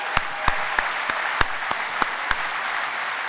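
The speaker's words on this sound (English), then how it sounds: "Let's give them a nice round of applause." Sparse, scattered handclaps from a small audience honour charity staff at a Moose convention session: roughly nine distinct claps, evenly spaced and fairly faint against a quiet room.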